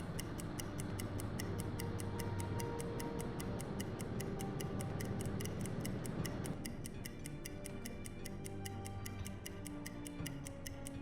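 A steady stopwatch clock ticks in the submarine game UBOAT, even rapid ticks running alone throughout under a low rumbling ambience of the boat.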